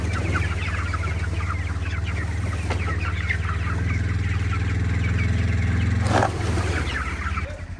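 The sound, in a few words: chicks peeping and clucking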